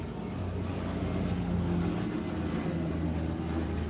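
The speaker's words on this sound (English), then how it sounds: "It's a helicopter." A helicopter drones steadily at a distance, a constant low rumble with a faint throbbing hum and no break.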